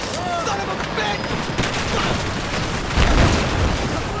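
Rapid automatic gunfire aimed at enemy aircraft in Battlefield 4, sounding as dense, continuous bursts with a heavier boom near the end, overlapping an excited voice.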